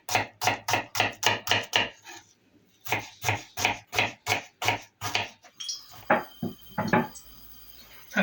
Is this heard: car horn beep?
no